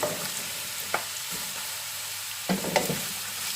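Cabbage and snow peas stir-fry with pork and noodles over high heat, giving a dense, loud sizzling hiss punctuated by a few sharp utensil scrapes and tosses.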